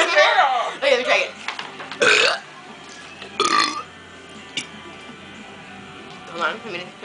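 Several short human burps come in quick succession, mixed with talking and laughter in a quiet room, followed by a quieter stretch with a faint later belch.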